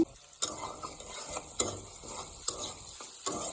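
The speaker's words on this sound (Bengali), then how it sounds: "আলুটা কিন্তু লাল লাল হয়ে গেছে ভাজাটা তারপর দিয়ে দেবো পেঁয়াজ কুচি কাঁচামরিচ কুচি" Potatoes frying in a pan with chopped onion and green chili, a soft continuous sizzle punctuated by a few sharp spatula scrapes, close but quiet.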